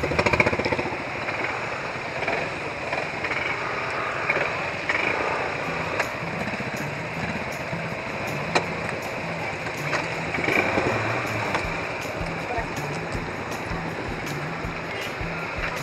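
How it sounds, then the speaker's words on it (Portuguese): A large group of motorcycles rides past in a Brazilian town during a charity event, creating a continuous rough engine drone with a rising and falling rattle of many bikes at moderate distance. "É muita moto."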